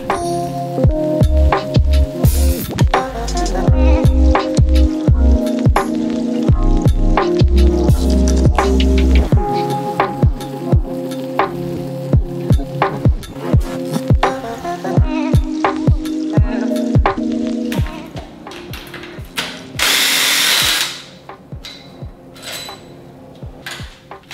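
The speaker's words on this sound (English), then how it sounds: "Let's take these head bolts off." Ratchet wrench loosening the cylinder head bolts on a Mazda 2.0 Duratec MZR engine, heard as loud close bursts of rapid clicking with metallic clanks and tool handling between them, no talking.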